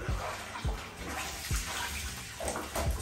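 Selvedge denim jeans hand-washed and agitated in a tub of water, with soft repeated sloshing and swishing at an irregular rhythm, close and fairly quiet, with no talk.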